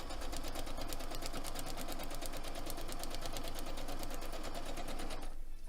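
A sewing machine stitches a foundation paper pieced quilt block in a fast, even needle chatter that runs steadily for several seconds, then stops abruptly near the end.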